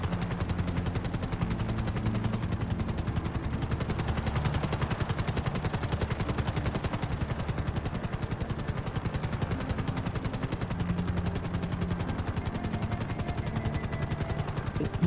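In the VMP RP roleplay video game, a rapid, relentless chopping pulse like rotor blades or sustained automatic fire runs steadily for the whole stretch, loud and unbroken, with no speech over it.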